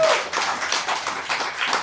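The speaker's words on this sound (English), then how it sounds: "Give yourselves a round of applause so people can know that you're here." A live studio audience on a Thursday talk show claps together in a dense, steady round of applause lasting about two seconds, close and fairly loud with no voices over it.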